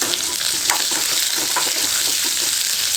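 Tomato and tamarind sauté in a hot pan for chutney, giving a steady close sizzle with faint stirring scrapes throughout.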